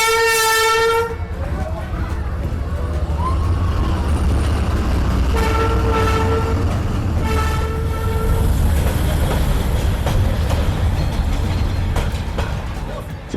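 A train rolls through Hanoi's narrow Train Street, opening with a loud, sustained horn blast, then a steady rumble of wheels and wagons passing close by, with the horn sounding again twice partway through.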